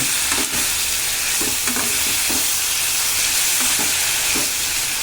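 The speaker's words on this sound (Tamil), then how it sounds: "இதை போட்டு நல்லா வதக்கிக்கோங்க." Onion, tomato, garlic and chili with rock salt sauté in a pan for tomato chutney, a continuous close sizzle with several soft stirring scrapes.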